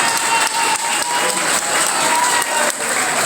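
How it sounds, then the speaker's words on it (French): Loud, dense applause from an audience at a youth political gathering, continuous and close for a few seconds with no talking over it. "Est-ce qu'on peut applaudir?"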